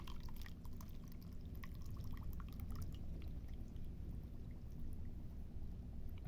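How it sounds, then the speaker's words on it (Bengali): Hot water poured to make tea, a steady continuous splashing stream with scattered drips, moderately close and alone without talk. "তারপর গরম পানি করে দিয়ে দিচ্ছি।"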